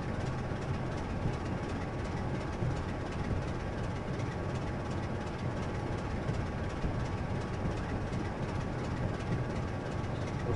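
A train running on the East Coast Mainline in a railway simulator game gives a continuous low rumble and rolling engine noise, steady and unbroken, with no speech.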